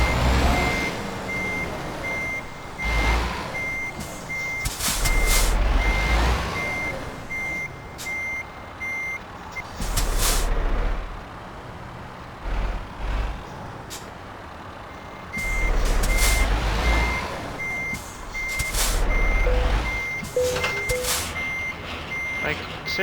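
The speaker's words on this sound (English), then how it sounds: "Come on, reverse gear." A truck reversing in Euro Truck Simulator 2: steady repeated warning beeps over a low diesel engine rumble, with occasional loud bursts of air-brake hiss.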